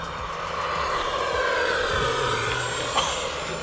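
An E-flite F-16 Falcon RC jet with an 80mm electric ducted fan makes a full-throttle pass, a steady high-pitched whine with a broad rushing roar that holds at moderate distance and brightens briefly near the end, with no talking.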